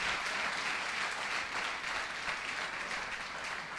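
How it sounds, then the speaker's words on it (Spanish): A church congregation applauding together during a service, a dense, continuous wash of clapping from many hands that fills the room at steady volume throughout. "denle un aplauso, Señor, con doble propósito, para glorificarlo y para que se despierte"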